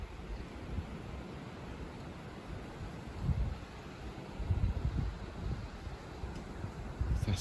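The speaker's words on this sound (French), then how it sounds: "un vent aussi fort" A strong north-east bise wind blows hard against the microphone, making a continuous low roar with gusts that swell and rumble. No one speaks over it.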